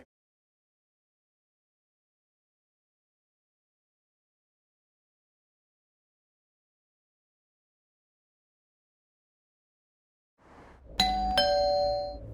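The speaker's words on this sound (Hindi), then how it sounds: "कभी फोन की घंटी बजती है, कभी डोरबेल।" A doorbell rings once near the end after a long silence, a bright ding-dong chime with ringing overtones, close and clear.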